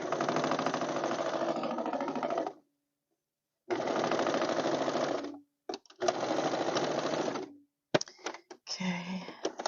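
A secondhand sewing machine stitches webbing in three long, steady bursts of rapid mechanical chatter with short pauses between, ending in a few brief stop-start runs.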